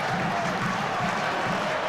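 Stockport County football fans in a stadium crowd make a steady, dense roar of cheering and applause with no breaks, heard from a distance.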